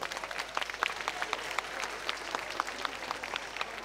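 An audience at the Children of the Balkans international ethnofestival applauds the mayor of Mineralni Bani, sustained crowd clapping with scattered sharper claps standing out, steady and fairly loud throughout.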